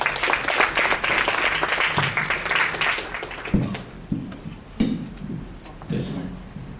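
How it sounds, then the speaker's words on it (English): A workshop audience applauds steadily for a few seconds, then the clapping thins out and a voice starts speaking through the fading claps. "A round of applause."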